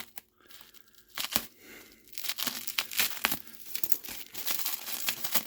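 Plastic packaging on a surprise package being tugged and torn open up close, with bursts of crinkling and ripping that come in irregular clusters between short pauses.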